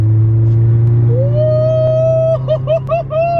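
A Peugeot 106 GTI accelerates hard in third gear, its engine note climbing steadily as it revs, loud and close with a strong low rumble beneath the rising tone.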